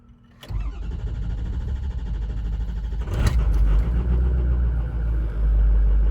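A 2006 Ford F350 diesel cold-started on a mild morning after sitting overnight: a sharp crank catches into a loud, low, steady idle rumble with a few clattering surges, close up and without talk.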